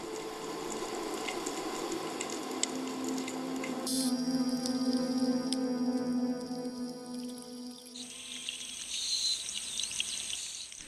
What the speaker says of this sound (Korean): 돌고래 무리도 특유의 소리를 내며 오랜 친구를 반기듯 주변에 맴돈다